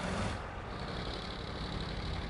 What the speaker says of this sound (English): I choose this engine sound over that one.